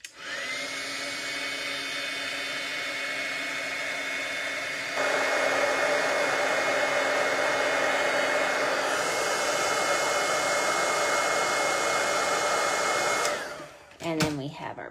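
A hair dryer blows over freshly inked stamping on a handmade autumn greeting card, a loud steady whirring roar that steps up in intensity partway through, runs for about thirteen seconds, then cuts off with a few soft clicks.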